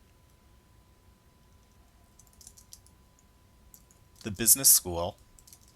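Computer keyboard typing while entering address lines in an Excel worksheet, a short burst of clicky keystrokes near the end after a quiet stretch, with a voice talking briefly.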